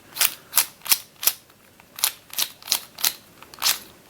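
A 4x4x6 twisty puzzle cube with uncapped pieces being turned by hand gives a quick series of about ten sharp, dry clicks, grouped in two bursts separated by a short pause, close and alone.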